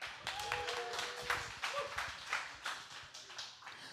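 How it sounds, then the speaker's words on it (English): Crowd in a church auditorium clapping for Hannah, a dense, steady wash of applause filling the whole clip at moderate level with a few faint voices mixed in. "Please clap loud for Hannah."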